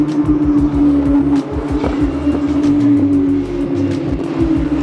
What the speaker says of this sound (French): les voitures arrivent